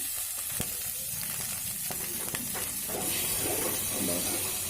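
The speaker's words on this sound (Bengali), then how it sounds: "এবার সমস্ত মশলাটা খুব সুন্দর করে একটু কাঁচা গন্ধ যাওয়া পর্যন্ত কষে নিতে হবে" Spice masala with turmeric powder and salt sizzles and fries in a pan for egg khichuri, a steady close hiss with occasional stirring scrapes and no voices.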